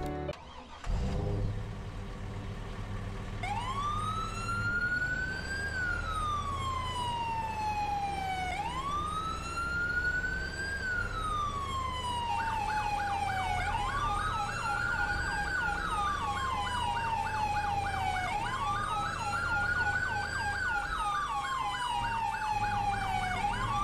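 A police car siren in Farming Simulator 22 wails in long rising and falling sweeps, starting after a brief engine sound and growing steadily louder as the vehicle arrives, with no talking over it.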